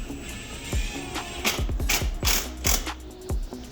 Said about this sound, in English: Using the washer that you saved and the new Allen-headed bolt, fasten the oil tank in place